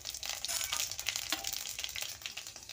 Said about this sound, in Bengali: 5 ফোঁটন ফোড়নে দিলাম